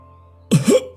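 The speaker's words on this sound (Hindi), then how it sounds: "तभी आंगन में एक तेज खांसी की आवाज गूंजती है।" Loud cough ringing out in a home courtyard, heard as a few sharp, harsh bursts after near silence, the last cut off at the end.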